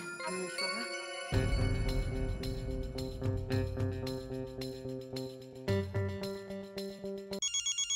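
An electronic ringtone plays a repeating melodic pattern over a steady rhythm, loud and close, with no talking, then a brief higher jingle near the end.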